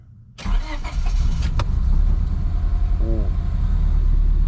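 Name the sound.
Honda Civic engine starting and running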